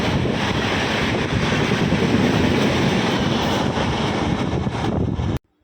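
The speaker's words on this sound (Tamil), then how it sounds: "ஒரு எக்ஸ்பிரஸ் வேகமாக போச்சு." An express train rushes past at speed, a loud, steady roar of wind and rumble that fills the whole stretch before cutting off abruptly near the end.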